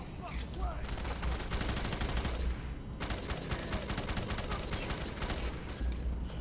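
Dense automatic gunfire in the shooter video game F.E.A.R. 3, loud rapid bursts filling the mix with brief gaps, while a player talks underneath.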